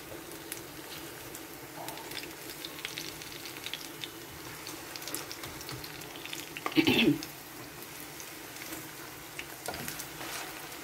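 Banana slices fry in hot oil for a Filipino snack, a soft steady sizzle with light stirring clatter and one brief louder scrape partway through.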